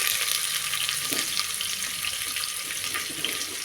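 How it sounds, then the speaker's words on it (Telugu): Raw chopped onion pieces hit hot oil in a pan while cooking khichdi, giving a loud, continuous sizzle and crackle with occasional stirring scrapes, steady from start to finish. "పచ్చి ఉల్లిపాయ ముక్కలు వేస్తున్నానండి"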